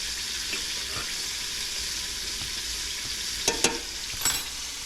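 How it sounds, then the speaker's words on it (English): Butter melting in a frying pan for cooking freshly caught crappie fillets, a steady soft sizzle throughout with a few sharp utensil clinks near the end. "Melt that butter about the size of a piece of bread."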